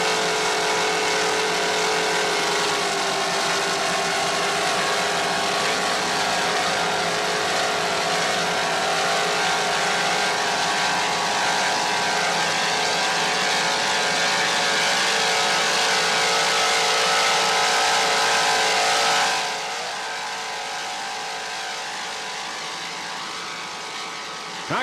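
Offshore racing powerboats with 650-horsepower inboard engines and Mercury drives, including a 32-foot Mirage, roar steadily at the 1995 Jacksonville Grand Prix, a loud continuous engine drone that drops abruptly near the end.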